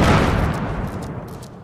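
A Fortnite explosion booms loud and close, a broad rumbling blast that decays steadily over about a second and a half.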